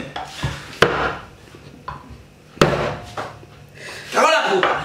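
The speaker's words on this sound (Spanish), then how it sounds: "vamos a empezar a picar." Food is chopped in a home kitchen while a spaghetti dish with minced meat is prepared. A few loud, sharp knocks sound close by, spaced irregularly, with clattering and a voice between them.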